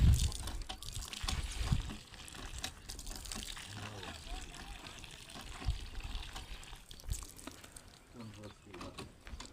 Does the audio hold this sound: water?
yes